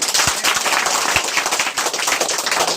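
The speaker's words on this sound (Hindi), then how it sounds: "एक बार अपने लिए जोरदार ताली हो जाए।" Audience applause at a Hindi-language company seminar session: a dense, steady patter of many hands clapping together, fairly loud and continuous for a few seconds with no talking.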